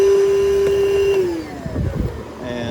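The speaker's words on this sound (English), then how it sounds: "it was a wise option to go ahead and vacuum it again because I saw some more gunk." A vacuum whines steadily while sucking gunk from a clogged drain, its pitch dropping as the suction catches and gurgles, then steadying again, loud and close.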